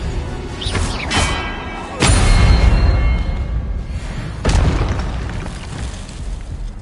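Confringo blasting spells exploding in the Hogwarts Legacy video game, with loud booming blasts at about two and four and a half seconds over a dense, rumbling battle din, plus sharper cracks early on.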